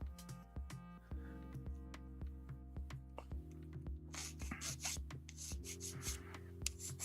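Steady scratchy rubbing and rasping strokes, close up, sanding a plastic Gundam model kit part, repeating in short bursts with a low hum underneath and no talking.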